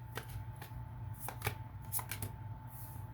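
Tarot cards are shuffled by hand in soft, quick riffling bursts that come in short, separate clicks and swishes, quiet and close with no voice over them.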